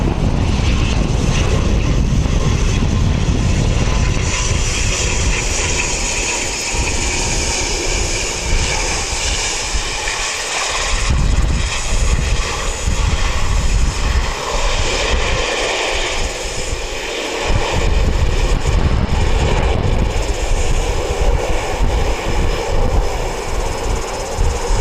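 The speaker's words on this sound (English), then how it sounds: "Grab this Dash 8. Just come in." Dash 8 turboprop arriving at Wellington Airport, a loud sustained propeller and engine drone with shifting rumble and hiss throughout, close and continuous.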